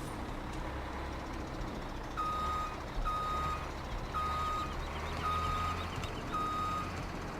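Truck backing up in Farming Simulator 17, its reversing alarm sounding a steady run of evenly spaced beeps over a constant low engine drone, with no talking.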